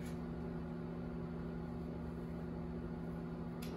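A microwave oven running with a steady low hum and constant whirring drone, unbroken throughout, no voices.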